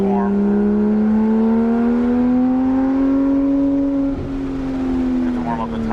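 Porsche 991.1 GT3 RS on the Cherohala Skyway in the Smoky Mountains, its engine not yet warm, droning loud and close with a steadily rising pitch as it accelerates, then easing briefly before picking up again.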